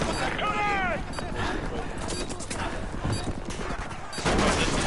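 Rapid gunfire from a Modern Warfare 2 Remastered campaign battle, with bursts of automatic shots and sharp single cracks, someone talking over the fighting throughout and a louder burst near the end.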